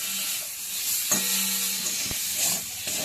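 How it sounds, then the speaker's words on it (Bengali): A semolina mixture with turmeric and salt is stirred in a pan over a gentle, steady sizzle, with a few scraping strokes and a sharp clank of the utensil against the pan, close by and without talk. "এবার নুন আর হলুদ দিয়ে আরো আমি কিছুক্ষণ নেড়ে চেড়ে নিচ্ছি"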